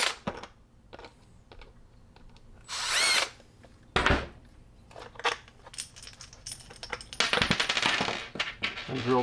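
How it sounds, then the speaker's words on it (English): A power drill bores mounting holes for a Ram Mount Tough-Track iPad mount, with two whirring bursts set among quieter clicks and handling knocks close by. "And drill 2 more holes just to make this even more sturdy and solid."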